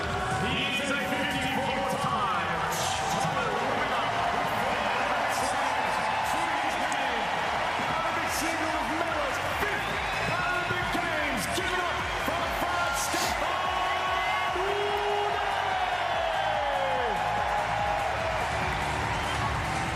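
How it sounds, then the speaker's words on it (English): Wheelchair tennis crowd cheering and applauding throughout as a player is introduced at a tournament match, a steady, dense roar of voices with whoops and clapping, an announcer's voice carrying over it. "Just goosebumps listening to the crowd, listening to him being introduced"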